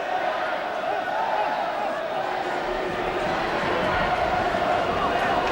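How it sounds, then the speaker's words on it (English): Dense, steady roar of a large rugby crowd in Cardiff cheering Wales on against England, continuous and loud with no break. "Listen to the crowd in Cardiff, roaring Wales on to victory."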